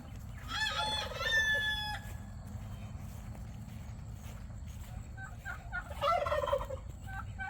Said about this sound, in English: The turkeys are at it.